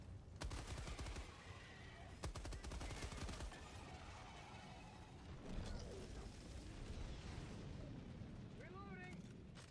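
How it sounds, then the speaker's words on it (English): A machine gun in a video game fires with a heavy, beefier report, the dense rapid shots clustered near the start amid steady rumbling battle noise and quieter mechanical clatter later on. "They have changed the noise of the MG. It sounds beefier now."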